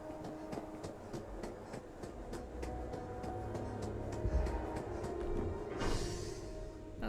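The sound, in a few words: subway train in Starfield video game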